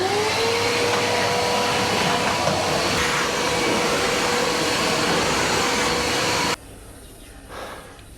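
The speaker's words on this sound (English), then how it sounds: "let's hoover up." A vacuum cleaner hoovers a room in an abandoned Greek house being readied for guests, a loud steady whine running close and continuous for about six and a half seconds before cutting off, leaving quiet room tone.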